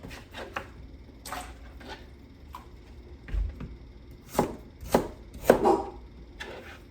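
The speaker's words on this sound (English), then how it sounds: "Smaller cuts means it'll cook faster, so I just cube it all up." A knife cubes skin-on sweet potatoes on a cutting board: a run of irregular, close chops, with a few sharper, louder strikes clustered toward the end.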